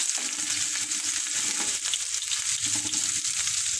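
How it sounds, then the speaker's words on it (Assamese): Crushed ginger and slit green chillies fry in hot oil while being stirred, giving a loud, continuous sizzle with soft scraping and stirring noises throughout. "আদাও দি ল'ম তেলতে থেতালি লৈছিলোঁ আদাখিনি অকণমান লৰাই লওঁ"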